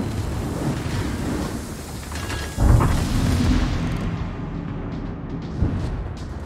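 A cruiser blows up in the naval battle game Thunderer, a deep booming blast that swells at about the midpoint and rumbles on beneath ongoing battle noise, with a smaller thud near the end.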